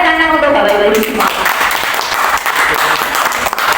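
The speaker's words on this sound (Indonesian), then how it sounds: "Tepuk tangan untuk Bapak Ibu semua" An audience of teachers gives applause, a burst of clapping that starts right after a speaking voice and continues steadily to the end.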